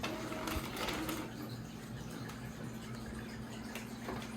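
Epson inkjet printer printing a stencil, a steady mechanical whirring and rhythmic buzzing with faint clicks, running continuously at moderate volume without speech.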